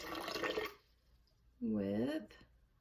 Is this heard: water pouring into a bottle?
yes